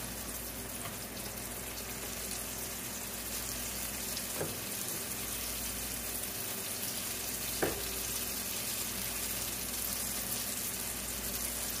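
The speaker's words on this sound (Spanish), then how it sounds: "tiene que llevar suficiente aceite porque los tacos tienen que quedar bien dorados" Bean-filled tacos dorados fry in plenty of oil with a steady, close, dense sizzle throughout, broken by two faint clicks.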